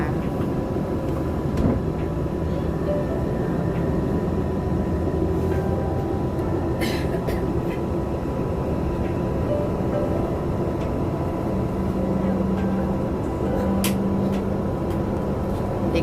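Passenger train in motion, heard from inside the carriage as a continuous low rumble of wheels on track with faint rattles and occasional clicks, steady throughout with no clear talk.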